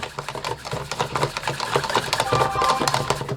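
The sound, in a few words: whisking gravy by rolling the whisk between hands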